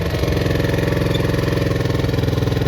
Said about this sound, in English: I'm going to start the bike up again.